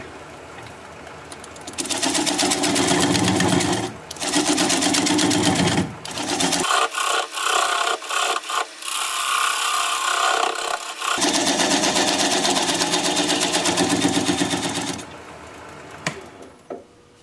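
A wood lathe runs at about 450 rpm while turning a bark-on bowl, giving a loud, steady whirring and rasping that breaks off briefly mid-way, then resumes before winding down near the end.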